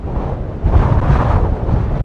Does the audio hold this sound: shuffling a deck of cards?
no